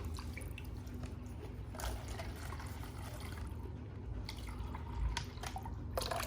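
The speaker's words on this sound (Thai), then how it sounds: "แล้วก็ลองเทน้ำดู" Water is poured into a homemade toilet siphon model and drips steadily from a leak, with faint, close trickles and drops over a quiet background.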